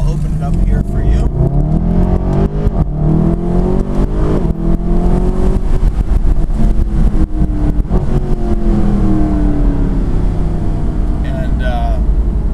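A 2012 Mercedes SLS AMG accelerates hard, its engine note rising through the gears with loud, sustained roaring and shifting harmonic sweeps, heard close from inside the car.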